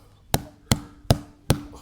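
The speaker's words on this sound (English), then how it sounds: "you can hit this sometimes with a hammer" A hammer strikes an ATV tire on a Polaris Scrambler 500 2x4 to seat the bead, four sharp evenly spaced blows ringing close and loud.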